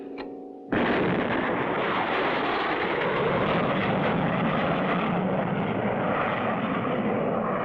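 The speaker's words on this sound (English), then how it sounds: "Our first successful attempt to really get a rocket off the ground." A cartoon rocket blasts off with a sudden loud roar after a brief quiet lead-in, then a sustained, dense rumbling thrust that holds steady to the end, with no talking over it.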